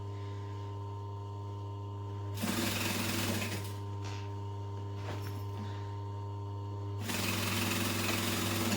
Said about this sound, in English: I just want to stitch it shut all the way along.